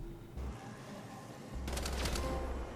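Heavy machine gun fire in Wolfenstein: The Old Blood, a short rapid burst of shots rattling out loudly in the final second after a low mechanical hum and thud.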